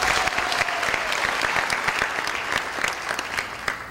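A studio audience claps steadily, a dense, even burst of applause that holds for a few seconds before thinning slightly at the end.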